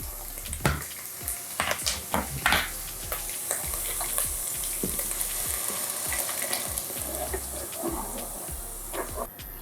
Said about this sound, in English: to fry the onion till it's a little bit transparent